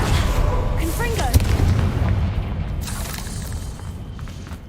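Confringo fire spell blasts in Hogwarts Legacy: a sharp, loud burst lands near the middle of the clip over a dense rumbling battle bed, with a short whooshing crackle before it and a gradual fade afterward.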